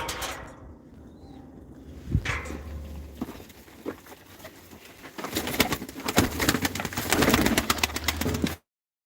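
Pigeons cooing outdoors, with soft rustling and fluttering that grows busier toward the end.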